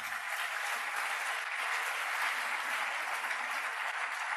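A church congregation applauds at a Sunday service, steady dense clapping filling the room for several seconds without letup, loud and sustained with no voices rising above it.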